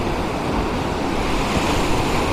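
Sea waves break on a shore in a steady, continuous wash of surf, fairly loud with some wind buffeting the microphone and no speech.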